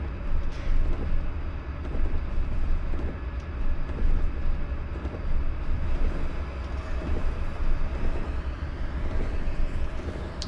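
Steady rumbling drone of a locomotive-hauled train accelerating in Train Sim World 2021 on the Feather River Canyon route to Oroville, a constant loud engine and rail roar with faint rhythmic clanks.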